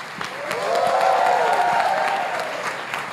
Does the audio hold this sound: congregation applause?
yes